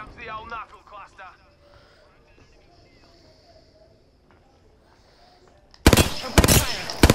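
Gunfire in the battle royale shooter Apex Legends: after a long quiet stretch with brief voice chatter, loud, close bursts of rapid shots break in near the end.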